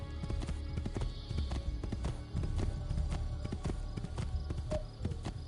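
A horse galloping in Assassin's Creed II, with rapid rhythmic clip-clop hoofbeats sounding close and steady throughout.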